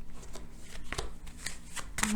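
A deck of tarot cards is shuffled close up, a quick run of crisp riffling flutters and taps, with a voice speaking softly over it.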